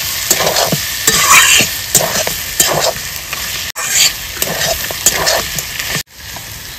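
Shredded cabbage ghonto with rohu fish head fries in a pan, loud and close: a dense, continuous sizzle broken by repeated scraping stirs of a spatula, with no one speaking.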